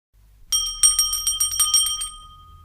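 A small bell rung rapidly, about ten bright metallic strikes in quick succession with ringing overtones that fade out after a couple of seconds, close and clear with no voices.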